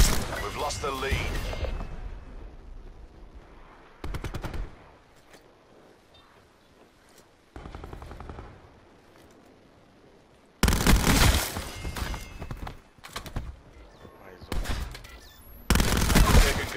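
Bursts of rapid gunfire in Call of Duty: Black Ops 4, loud and clustered, separated by quieter stretches where voices talk over game sounds.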